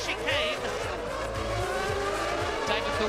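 Formula One cars of the 2000 Monaco Grand Prix rush through the chicane, engines droning loudly with tires squealing briefly, beneath steady excited commentary.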